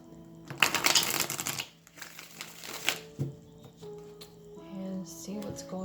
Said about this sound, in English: Let me just shuffle.